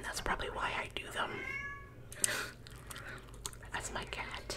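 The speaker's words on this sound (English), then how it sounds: "That's my cat. You probably heard her twice too." A pet cat meows a couple of times in a quiet room, short rising tonal calls that cut in amid soft whispering and gum-chewing mouth sounds.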